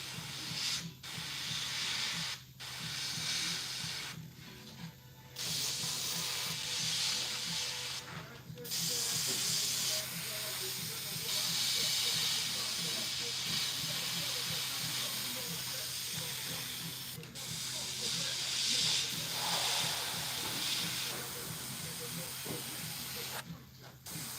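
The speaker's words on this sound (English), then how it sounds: "Something wrong with my airbrush." An airbrush hisses in long continuous bursts broken by brief pauses, close and steady, while people talk quietly.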